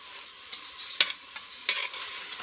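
Onions softening in a hot pan for apple sauerkraut, a soft continuous sizzle broken by a few sharp scrapes and clinks of a utensil stirring, close and fairly quiet with no voices.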